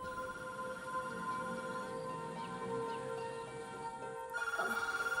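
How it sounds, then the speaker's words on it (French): A telephone rings early on a Saturday morning at home, a steady electronic ring tone sounding continuously, then a brief pause and a sharper pulsing ring near the end, with quiet room ambience behind it. "il devait être 7 heures quand le téléphone a sonné"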